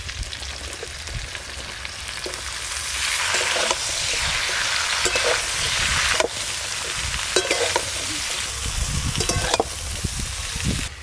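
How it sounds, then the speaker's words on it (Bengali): Cut, washed ridge gourd is added to potatoes frying in a pan, giving a loud, steady sizzle that swells as the pieces land, with scraping stirs and sharp spatters throughout. "এবার ওপর দিয়ে কেটে ধুয়ে রাখা ঝিঙেগুলো দিয়ে দেবো"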